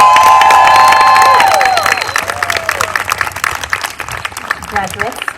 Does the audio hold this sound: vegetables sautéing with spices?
no